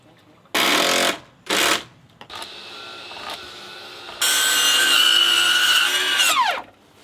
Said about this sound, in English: we just brought the little Metabo 7 1/4 up here and using that to bust out this pressure blocking